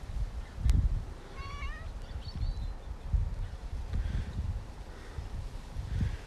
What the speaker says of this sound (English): Oh, what a lovely cat.